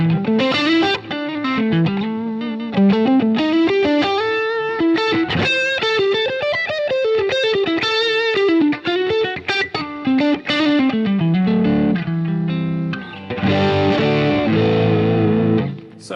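Electric guitar through a modeled HiWatt DR103 amp on a Line 6 Helix with an SD1 overdrive, playing a melodic riff with a warm, moderately distorted tone, sustained chords and single-note runs, ending with a brighter strummed passage.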